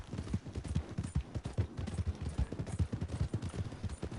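A horse's hooves clip-clop steadily on the ground in the Western video game Red Dead Online, a quick repeated rhythm of fairly close, clear thuds with no talking over it.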